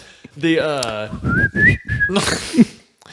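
A person whistles a short, bright melodic phrase with sliding pitch, heard alone and close up, preceded by a few sung or hummed tones.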